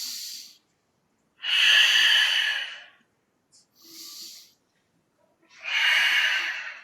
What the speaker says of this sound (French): Inspire. Expire.